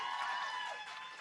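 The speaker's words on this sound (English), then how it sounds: "Can we hear one more round of applause, please?" An audience at a poetry open mic gives a short, fairly faint round of applause, a soft continuous patter of clapping with a hint of crowd voices.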